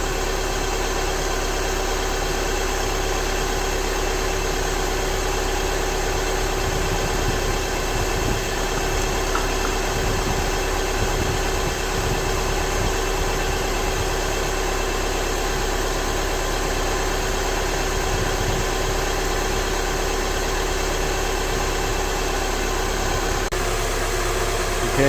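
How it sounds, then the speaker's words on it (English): Car engine idling steadily during a DSG transmission adaptation, a constant low hum with faint vibration and a broadband hiss, unchanging for the whole stretch. "now we have the vehicle started up"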